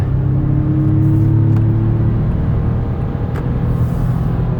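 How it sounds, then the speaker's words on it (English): A 2017 Toyota Sienna L wheelchair van accelerating on the road, its engine drone rising steadily in pitch then leveling off, close and continuous under road rumble, with no voices. "So I'm going to give it some gas."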